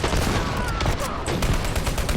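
Gunfire in a first-person shooter video game: a dense, loud fusillade of rapid shots and bursts rattling continuously throughout, with almost no pause and no talking over it.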